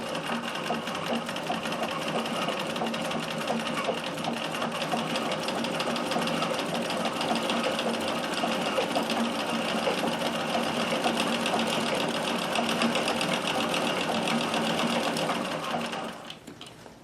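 A Singer Circular Stitcher, model 161847, runs continuously at speed, its needle mechanism hammering out a fast, even mechanical rattle close by before winding down and stopping near the end.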